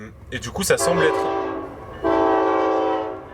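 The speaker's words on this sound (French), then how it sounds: "Pardon, c'est le train." A train passes with a loud, sustained horn in Canada, its blast starting partway through and holding steady to the end, with rumbling wheels underneath and someone speaking French over the top.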